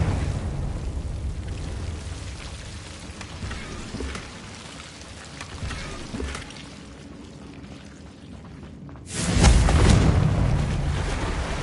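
The Confringo fire spell from Hogwarts Legacy erupts in a loud, broad whooshing blast near the end, rising out of a dense, constant hiss of game ambience.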